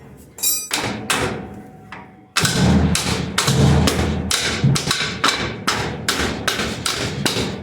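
Heavy blows strike the rear axle of a 1957 Chevy rear end under a 1955 GMC truck to knock it loose: a loud, close series of dull metallic thumps at a steady rhythm, roughly two per second.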